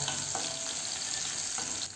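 Onions sizzle steadily in hot oil with fennel seeds, a close, even frying hiss with light stirring scrapes.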